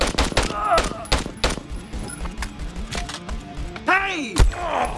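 A golden pistol fired repeatedly in the VR shooter Hard Bullet, with quick loud shots in an uneven rhythm, clattering hits, and a rising whoosh effect near the end.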